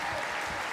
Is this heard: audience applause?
yes